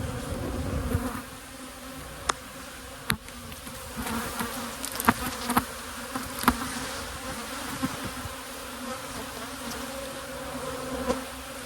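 Many honeybees buzz steadily close by at an open hive in a dense, continuous drone, with a few sharp clicks and knocks scattered throughout.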